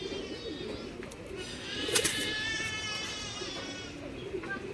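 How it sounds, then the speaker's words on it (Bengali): Black Giribaz pigeons coo softly in a loft, low murmuring calls repeating close by, with a brief brighter burst partway through and faint background noise. "পাঞ্জার কোয়ালিটি সবজি গিরিবাজ কালো পায়রা"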